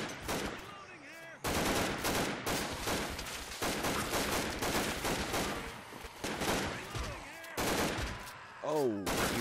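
SWAT officers fire automatic weapons in Garry's Mod against Evil Within demonic monsters, with sustained loud bursts broken by brief pauses and voices talking over the battle.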